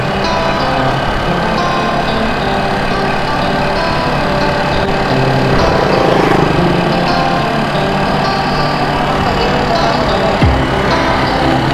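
A broken-down motorcycle idles roadside in a steady, loud, unbroken drone, with a passing vehicle briefly swelling the noise partway through.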